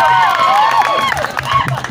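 A comedy-show audience cheers with rising and falling whistles and shouts, a dense, loud crowd wash lasting under two seconds.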